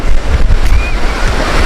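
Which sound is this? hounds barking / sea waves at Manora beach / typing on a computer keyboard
sea waves at Manora beach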